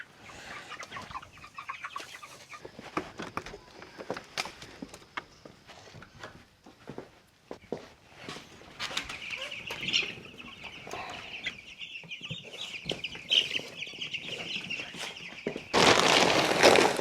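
Cornish chickens clucking near and far during morning farm chores, scattered clucks and calls building in density, with a louder burst of flock noise at the end.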